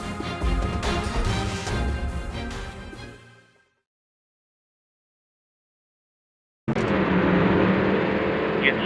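Race cars roar at the start of a Daytona race in a racing video game, loud, dense engine noise that fades out into a few seconds of silence before the engine roar returns at full strength.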